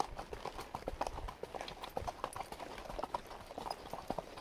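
Hooves of a domesticated Mustang horse clip-clop along a mountain trail, a soft irregular walking rhythm of muffled thuds, fairly faint and steady, with light outdoor background noise.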